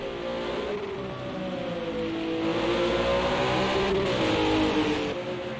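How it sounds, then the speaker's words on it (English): A GT3 race car at Imola howls close by, its engine note sweeping up and down through gear changes as if held near the rev limiter, loud and continuous. "that car, it just sounds like it's constantly on the rev limiter"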